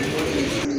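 A pair of Bombay pigeons offered for sale give one brief, close, low throaty coo, heard alone without any speech.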